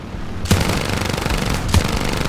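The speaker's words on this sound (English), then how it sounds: "we got him with the machine guns" Continuous rapid aircraft machine-gun fire from a Morane fighter in War Thunder air arcade, a dense rattling stream with two sharper bursts kicking in about a second apart, loud and close.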